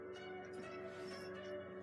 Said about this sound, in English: I like how they ring when they clack,